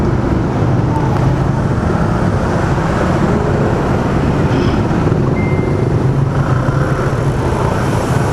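Road traffic on a congested street where cars are double-parked, heard as a loud, continuous engine and tire roar that holds steady throughout with no break.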